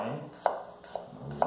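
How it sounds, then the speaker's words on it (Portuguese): A knife chops garlic cloves finely on a board, three crisp, evenly spaced taps that sound close and clear, with no talking. "Agora vamos pegar dois dentinhos de alho e cortar ele bem pequenininho"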